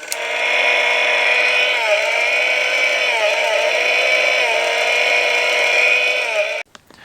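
A toy mini chainsaw motor on a custom Hasbro Plasma Series Mini Puft figure runs with a loud, steady buzzing whine for about six seconds, warbling slightly in pitch, then cuts off abruptly.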